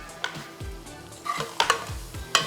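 Spice tempering with turmeric sizzles in hot oil in a pan while a spoon stirs it, giving a steady close crackle broken by several scraping strokes, with no talking.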